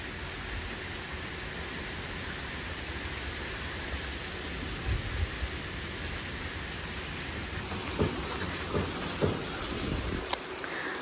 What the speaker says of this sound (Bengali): আর দেখো বৃষ্টি পড়ছে, এখন আবার একটু রোদও উঠেছে বৃষ্টির সাথে হালকা হালকা।